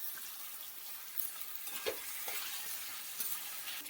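Cabbage, capsicum and peas stir-fried in a pan give a soft, steady sizzle with a few scraping stirs near the close, fairly faint and continuous, with no talking.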